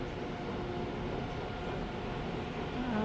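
A train at Epping metro station in Sydney, heard as a steady, loud rumble and hum of rolling stock and station machinery that fills the whole stretch with no talk over it.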